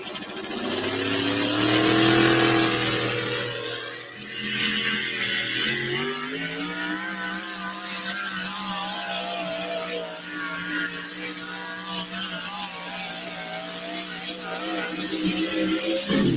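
A truck-pulling truck with a Chevy Hemi engine roars at a loud, sustained high rev, its pitch climbing and holding for the full run, close and dominant throughout.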